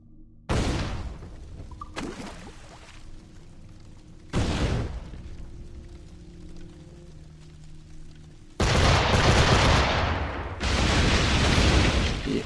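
Fire barrel explosions and gunfire in Assassin's Creed IV: Black Flag, a few loud separate blasts with ringing tails followed by a sustained, heavy roaring barrage, with no talking.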